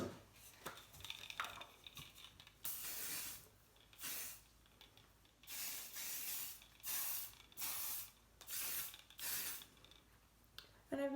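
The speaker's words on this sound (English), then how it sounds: "probably gonna give this a little spray." Hairspray sprayed onto hair while setting braids, heard as a series of about seven short hissing aerosol bursts with brief quiet gaps between them, close to the microphone.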